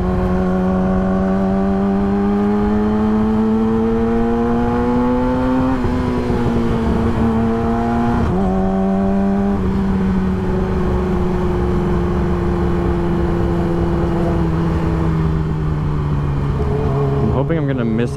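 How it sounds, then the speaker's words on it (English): A car engine putters and revs while driving, a loud, close droning hum that rises and falls through several gear changes, with steady road noise beneath. "I love the puttering that this engine makes"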